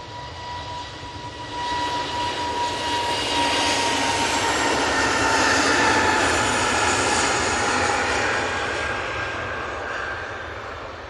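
An Airbus A320neo jet takes off, bound for Belfast, its loud, steady engine roar building over several seconds and holding strong before easing slightly as it climbs away.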